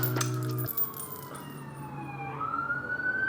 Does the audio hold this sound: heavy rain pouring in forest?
no